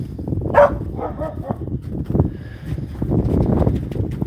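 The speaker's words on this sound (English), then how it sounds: "they're barking at something." Dogs bark in a busy, overlapping cluster in a winter field, several sharp yaps close by with a steady outdoor background; a brief high yelp stands out early.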